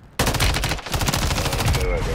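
Loud, dense gunfire from the video game Call of Duty erupts suddenly and continues as rapid automatic bursts layered with other shots, close and harsh for about two seconds.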